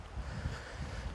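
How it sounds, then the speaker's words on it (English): Steady outdoor wind rumbles and buffets against the microphone, a continuous low roar with gusty swells throughout, no voices present. "The old wind's picking up now."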